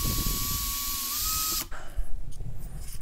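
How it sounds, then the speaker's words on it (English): A power drill whines steadily for a moment drilling through an old hole in a drone arm, then stops, followed by clattering and scraping of tools nearby. "go ahead and try to drill that."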